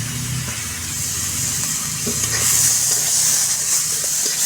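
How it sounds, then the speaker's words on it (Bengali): Steady, loud sizzling of thinly sliced food and green chilies frying in hot oil, a continuous crackling hiss with faint stirring and no talking. "আমি একটু তেল দিয়ে এগুলো ভালো করে ভেজে নেব।"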